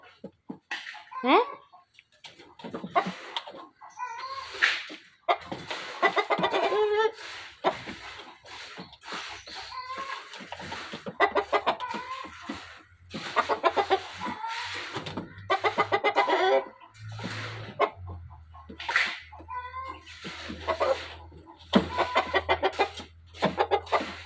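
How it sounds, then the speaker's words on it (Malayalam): Hens cackle loudly and repeatedly after laying an egg in a village yard, and a rooster calls among them. Bursts of clucking come close and recur throughout, with people talking at times. "കോഴിപ്പണ്ണൊരു മുട്ട ഇട്ടിട്ട് കൊക്കുന്നുണ്ട് അത് കേട്ടതിനുള്ള ബഹളമാട്ടോ"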